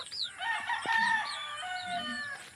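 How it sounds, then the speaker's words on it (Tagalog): A rooster crows nearby in a long, wavering call while hens cluck softly in the background; no talking. "may mga tandang."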